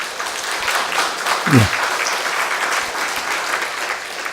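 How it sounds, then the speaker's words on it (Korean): A church congregation claps for the choir, a steady moderate round of applause with a short voice-like tone briefly rising above it midway. "성가대에게 박수로 한번 우리."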